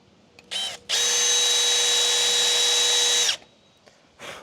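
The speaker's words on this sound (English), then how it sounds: "I'm just gonna put a little divot in here with the drill bit" A power drill bores a small divot into metal for a set screw on a Vermeer S800TX mini skid steer: a short start, then one loud, steady whine of about two and a half seconds, then brief tail-off bursts.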